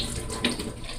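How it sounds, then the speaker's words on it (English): Salted water from boiled saltfish poured off into a kitchen sink, a brief rushing splash that peaks near the middle, fairly soft and close. "we're going to pour off the salted water"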